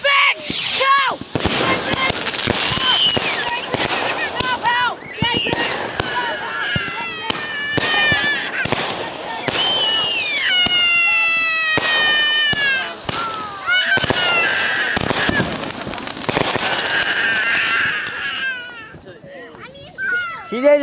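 Fireworks bursting in a dense run of loud pops and crackles, with whistling shells rising through the mix and children shouting and talking throughout.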